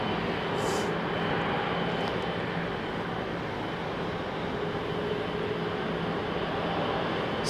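A Boeing 787 Dreamliner lines up on the runway at London Heathrow, a steady, broad jet-engine roar with a low rumble heard from a distance, continuous and unchanging without any nearby voices.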